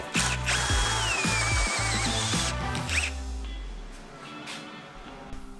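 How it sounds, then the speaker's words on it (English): A power drill drilling metal out to 5/8 inch whirs and revs in short bursts, grinding and catching with metallic squeals, close by, then slows and fades toward the end. "We need to drill this thing out to 5/8."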